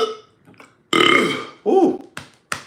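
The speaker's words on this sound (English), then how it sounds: "Ooh, good burp." A loud, close belch rumbles out at length, followed by a second shorter burp and a couple of brief gulping catches.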